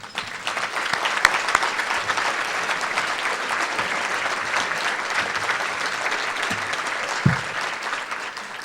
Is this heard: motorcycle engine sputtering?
no